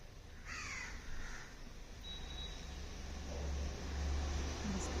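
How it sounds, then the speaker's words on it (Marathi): A crow caws a couple of times in the distance over steady outdoor hiss and a low rumble, brief harsh calls early on, then quiet ambience. "कावळ्यांचा काव काव आवाज येतोय"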